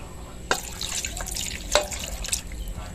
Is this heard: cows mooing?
no